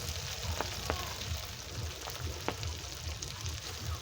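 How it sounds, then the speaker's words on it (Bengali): Bata fish shallow-frying in hot oil until crisp and red: a continuous soft sizzle and hiss, fairly quiet, with a few sharp pops and spatters scattered through it. "মাছগুলো শুধু ভাজা করব, সেই জন্য আর একটু ভালো করে ভেজে নিতে হবে"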